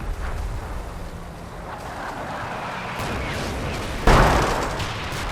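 Combat Mission: Red Thunder artillery barrage falling around a tank: a continuous rumbling roar of distant impacts, swelling with a sharp, heavier blast near the end.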